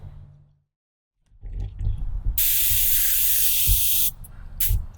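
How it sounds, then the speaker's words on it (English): An airbrush sprays acrylic resin finish onto a custom leather shoulder holster: after some quiet handling noises, a loud, steady hiss runs for nearly two seconds, breaks off, then returns in a short burst. "then be able to spray on the final finish and assemble"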